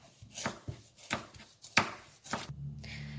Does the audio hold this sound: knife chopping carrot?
yes